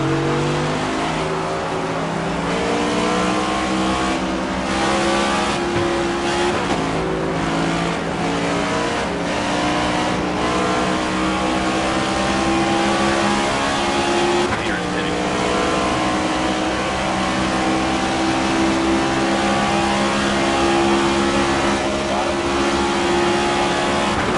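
Race cars roaring along during green flag pit stops in an online Las Vegas racing game, engines droning and revving steadily and loudly throughout, with cars passing and a voice talking over them.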